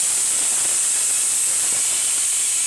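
A homemade fog machine jets steam into a garage with a loud, steady hiss that runs unbroken throughout at close range.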